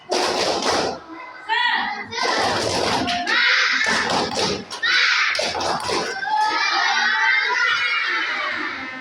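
Schoolchildren in a classroom do a spirited clapping cheer, with loud, close bursts of rhythmic claps mixed with their chanting voices.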